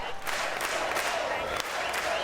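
Baseball stadium crowd roaring and cheering in a steady, dense wash of noise with clapping mixed in, heard from within the stands, continuous throughout.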